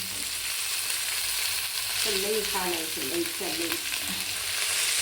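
Fresh fenugreek leaves (methi) go into a hot pan with coriander and are stirred, giving a steady sizzle with scraping stir sounds, and a voice talks over it midway.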